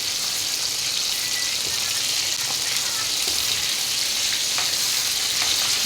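Chicken pieces frying in hot oil for a fried chicken dish, a steady dense sizzle with faint crackles throughout, no talking.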